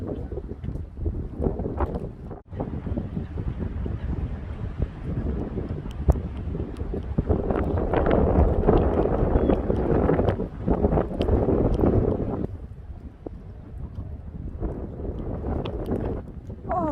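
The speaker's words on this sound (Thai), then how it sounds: "เบิ่งลมมามืดกึบค่ะอยู่น้ำนี้" Strong wind buffets the microphone on a boat on open water, a loud continuous roar that swells in gusts around the middle, with no talking.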